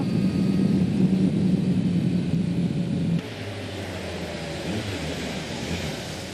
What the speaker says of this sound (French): On utilise la puissance du moteur dans la ligne droite.